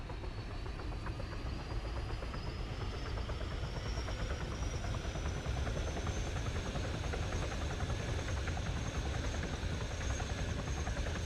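Helicopter engine spinning up with rotors starting in Arma 3, a steady loud whine rising in pitch over a dense, continuous rotor and turbine drone throughout.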